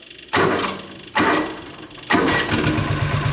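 A long-idle John Deere Gator 6X4 utility vehicle, sitting unused since 2014, cranks and catches three times in a row, each burst of engine noise starting abruptly, fading, then picking up again with a rough running rattle.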